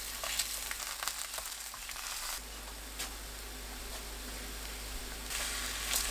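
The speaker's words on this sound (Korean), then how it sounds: "애호박 올리고 중약불로 구워줍니다" Zucchini slices sizzle in a pan over medium-low heat, a steady close frying hiss that holds throughout with faint crackles.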